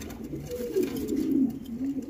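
A pair of top-quality short-faced fancy pigeons coos close by, a low, soft, rolling call that swells and fades in a steady run.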